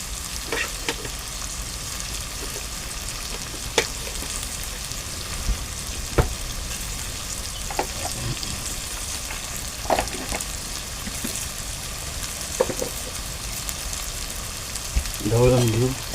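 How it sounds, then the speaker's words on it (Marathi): Rice and lentils for a val bean khichdi fry in a pot and are stirred, giving a continuous close sizzle broken by spoon scrapes and knocks against the metal, with a louder clatter near the end. "ढवळून घेऊ."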